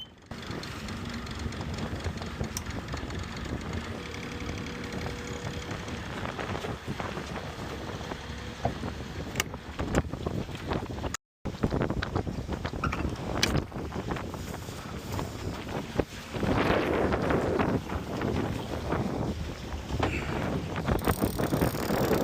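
A sailboat's motor drones steadily while crossing open water from Bonaire to Curacao, a low continuous hum mixed with gusty wind noise on the microphone, with a brief dropout midway and louder rushing toward the end.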